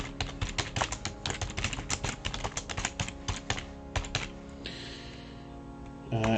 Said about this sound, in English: you got to slam the keys. You got to push them down. It's just a regular keyboard. But I didn't realize how loud that was.